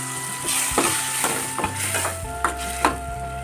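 Chopped tomatoes drop into frying masala in a home kitchen pan, giving a steady close sizzle with several sharp stirring scrapes and clatters, no talking.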